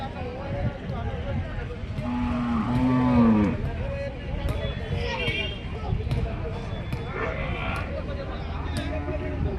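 Buffaloes at a busy cattle market in Vikarabad, with a moo-like bellow rising midway over steady crowd chatter and background bustle.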